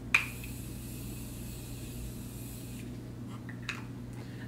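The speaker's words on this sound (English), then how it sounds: "So I guess I'll go ahead and spray this again." A fragrance-free facial mist from a continuous-spray nozzle bottle gives one sharp onset followed by a steady, fine hiss lasting nearly three seconds, then stops, leaving quiet room tone and a faint click.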